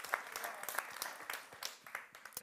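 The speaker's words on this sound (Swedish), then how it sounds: "Så det är ju värt en applåd om någonting, eller?" Scattered applause from an audience at an accessibility conference talk on QR-code login, a small group clapping with uneven individual claps, moderately near and fairly quiet, with no voices over it.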